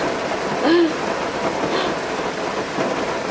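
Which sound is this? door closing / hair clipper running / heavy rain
heavy rain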